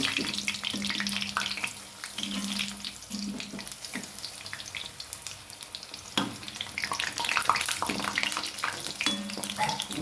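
Steady sizzling of jackfruit snack frying in coconut oil, with occasional stirring and scraping clinks over the crackle, close and moderately loud.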